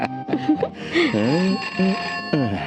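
A loud, close telephone ringtone with warbling melodic tones, rising and falling repeatedly, with voices mixed in.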